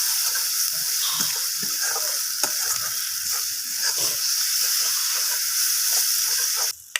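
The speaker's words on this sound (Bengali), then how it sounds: "এরপর আবারও সব কিছু আমি ভালোভাবে এইভাবে কষিয়ে নেবো" Spiced fish curry masala being sautéed in a pan, a loud, dense sizzling hiss with light scraping stirs throughout, ending in a sudden knock near the end.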